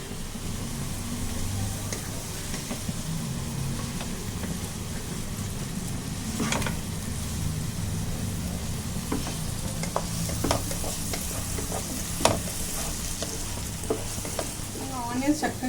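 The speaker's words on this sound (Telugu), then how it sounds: "ఆనియన్స్ చక్కగా వేగిపోయినాయి" Onions frying in a pan give a steady crackling sizzle throughout, broken by intermittent stirring clinks and scrapes, moderately loud and close.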